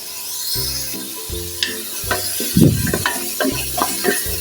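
Garlic, onion and tomato sautéing in a pan for pork belly sinigang: soft sizzling under repeated scraping and stirring strokes of a spatula, close up, with a low steady hum behind.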